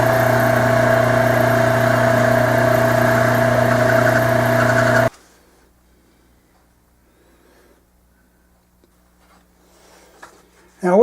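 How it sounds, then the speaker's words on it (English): A lathe spins a Morgan silver dollar coin ring on a mandrel with a steady loud motor hum and whir, which cuts off abruptly halfway, leaving near silence and faint rustling afterward. "we're going to put it on the lathe and we're going to taper the outside edge"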